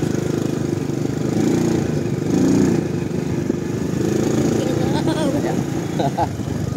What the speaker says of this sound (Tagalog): Nahihirapan ang motor natin sa ahon.